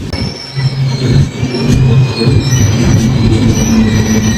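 Loud, continuous rumble of a train rolling on rails, with a faint high squeal running throughout.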